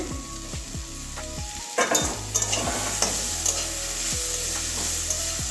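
Boiled flat beans are stirred in a pan with a steady sizzle underneath, while a spoon scrapes in repeated close strokes and knocks sharply once near the start.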